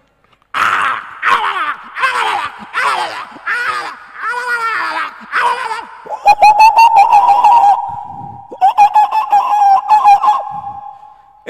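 A human voice imitates crows squabbling, with a run of harsh, rhythmic caws followed by longer, nasal drawn-out calls and a few sharp bursts, loud and close.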